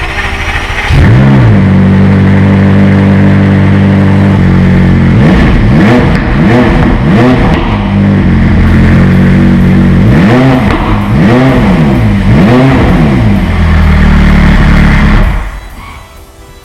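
An orange McLaren 675LT engine starts and revs repeatedly, the pitch rising and falling in strong surges before cutting off near the end; loud and close, no talking.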